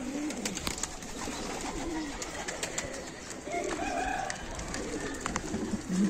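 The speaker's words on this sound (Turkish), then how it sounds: "Baya çok kuşumuz var şu an ama gözle gözü görükmüyor olabilir." Adana pigeons coo softly and repeatedly, low rolling calls over a busy background of shuffling and faint chirps.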